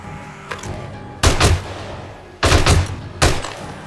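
Gunfire in the Backstabber video game at a base: a faint pop followed by three loud, heavy bursts of shots separated by quieter gaps.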